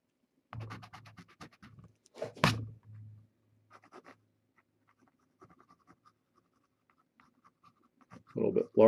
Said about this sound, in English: Now let's kind of sketch in the form of her ear.